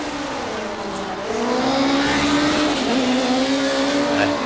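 Chevron B19 race car engine: a loud, high-pitched racing engine heard close, swelling as it revs and holding a strong, steady tone.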